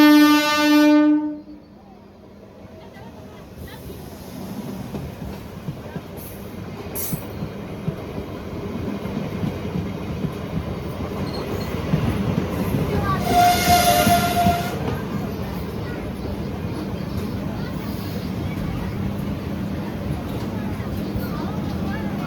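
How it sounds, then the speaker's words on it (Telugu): A Chennai–Tirunelveli special train passes a station, heard from a halted train: a loud horn blast opens, then a sustained rolling rumble and wheel clatter, with a brief high wheel squeal partway through. "స్పెషల్ ట్రైన్ అయితే వెళ్ళిపోతుంది చెన్నై తిరునల్వేలి"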